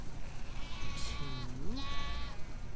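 Sheep in The Last of Us Part II let out two or three wavering bleats in quick succession, moderately close, over low ambient game noise.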